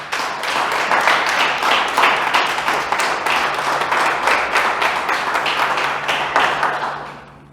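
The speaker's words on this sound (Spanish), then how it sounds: "Denle un fuerte aplauso." A church congregation gives a loud, sustained round of applause for a pastor's sermon, dense and steady throughout before thinning slightly at the end.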